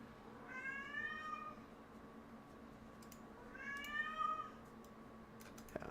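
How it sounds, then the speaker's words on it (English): A house cat meows twice, each call long and drawn out with a whiny, complaining tone, heard near and fairly quiet against a faint steady hum and a few light clicks. "Evie, what are you meowing for?"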